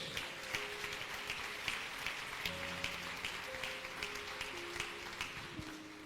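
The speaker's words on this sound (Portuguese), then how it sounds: "Você pode aplaudir ao Senhor por isso?" A church congregation claps for the Lord, soft, rhythmic applause sitting quietly under sustained musical tones, with regular pulses of clapping throughout.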